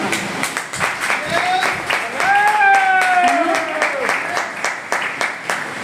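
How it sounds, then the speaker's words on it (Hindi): Audience applause at an RCM business gathering in Kota, Rajasthan: steady crowd clapping throughout, with a voice talking over it and some tonal sounds in the middle. "ये वो लोग ताली बजा रहे हैं"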